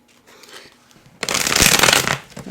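A deck of tarot cards is shuffled up close, quiet rustling at first and then a loud, dense riffling burst that runs for about a second before easing off.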